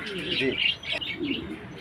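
Pigeons in a loft give soft, close calls in two brief bursts, with quieter chirpy sounds between them.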